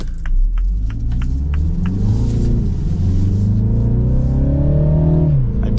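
A 2024 Mini Cooper S Clubman All4 engine pulls hard while accelerating, its loud, close hum climbing in pitch, dropping at a gear change and climbing again before another shift.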